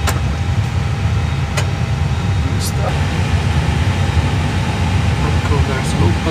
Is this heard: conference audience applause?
no